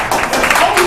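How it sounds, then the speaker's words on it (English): Applause from a seminar audience at a monthly mastermind business event in Elk Grove, a brief burst of clapping lasting under a second, fairly loud. "give yourselves a big round of applause"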